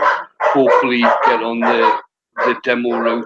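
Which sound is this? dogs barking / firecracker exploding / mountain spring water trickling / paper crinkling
dogs barking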